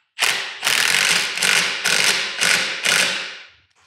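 A ratchet wrench clicks in six quick, loud, close bursts while snugging up skid plate bolts on a Jeep Wrangler, with no voices present.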